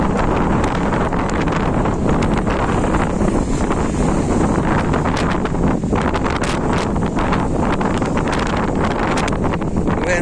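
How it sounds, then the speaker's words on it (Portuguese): Strong wind buffets the microphone at the seashore at Laginha in December, a loud, continuous roar filling the whole stretch, with surf and water noise likely mixed underneath. "Vento enorme."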